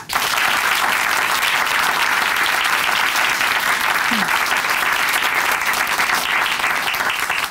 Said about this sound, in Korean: 우리 최경자 자매님께 다시 한번 큰 박수 보내드릴게요.